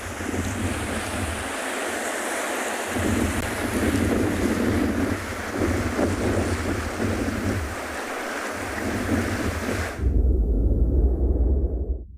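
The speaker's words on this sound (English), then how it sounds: "the wind is blowing just a touch" Wind gusting across an open penguin beach, producing steady loud rumbling buffeting on the microphone mixed with surf, with a brief drop near the start and a heavier, duller rush toward the end; no voices.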